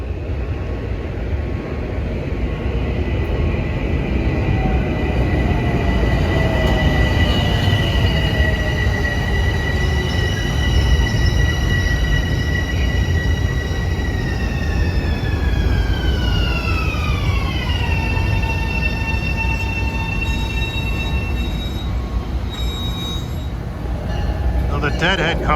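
A commuter train rolls into a Harlem station with steady heavy rumble, its wheels squealing in long sliding tones that bend downward as it slows, loud and close, while a public-address voice speaks over it.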